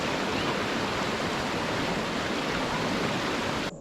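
A river in Sedona rushes in a steady, dense, close wash of flowing water with no voices, cutting off abruptly at the end.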